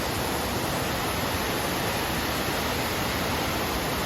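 Continuous broadband rush of the Iridi waterfall near Ratnapura, Sri Lanka, fed by a stream from Uttapitiya hill, a steady unbroken roar of falling water with no voices.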